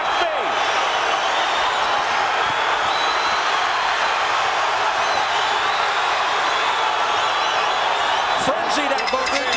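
A loud boxing arena crowd roars and cheers steadily throughout a bout between Johnny Tapia and Paulie Ayala, a dense unbroken wall of noise with a few sharp claps or bangs near the end.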